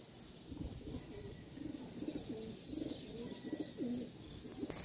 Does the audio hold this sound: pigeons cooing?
yes